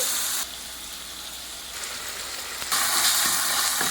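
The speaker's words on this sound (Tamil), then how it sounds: "நல்லா வதங்கட்டும் தக்காளி வந்து நல்லா மசிஞ்சு வரட்டும்" Tomato sautés and softens in a hot pan for a potato side dish, a continuous close frying sizzle with stirring scrapes that grows louder and brighter toward the end.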